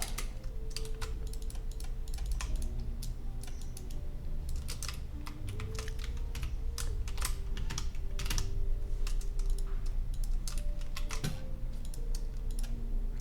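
Keyboard shortcuts are tapped on a computer keyboard in quick, fairly quiet clicking bursts, with irregular rhythm and brief pauses over a low steady background hum.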